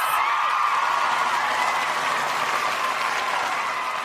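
Applause sound effect on a talk show, a bright, dense burst of crowd clapping with a faint whoop or two, steady and loud for about four seconds.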